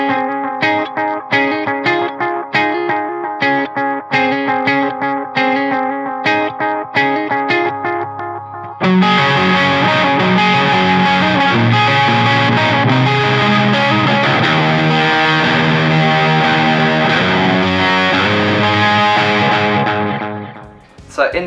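A PRS S2 electric guitar strummed through effects, first as choppy rhythmic chords, then switching to a loud, sustained, distorted wash of chords before fading out at the end.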